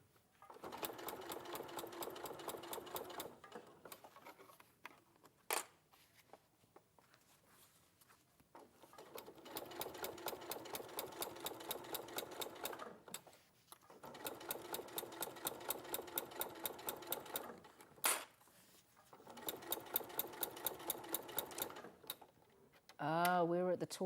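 Sewing machine stitching a wipe-clean bag slowly around its curves, running in several steady bursts of rapid mechanical ticking separated by short pauses and brief clicks.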